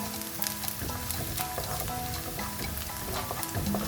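Onions fry in a pan for creamy mushroom curry while being stirred constantly, producing a steady close sizzle broken by scraping and clinking stir strokes.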